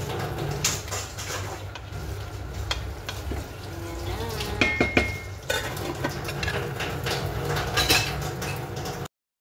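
Chicken adobo with potatoes and egg, already boiling, stirred in a pot: close clanks and scrapes of a utensil against metal over a steady simmering bubble and sizzle, with no talking.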